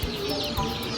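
Chickens clucking close by, a short burst of a few clucks with farmyard background.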